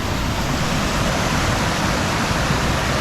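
Close, steady rushing water from a stream and small waterfall at Ashgill Force in Cumbria forms a dense, unbroken broadband roar throughout.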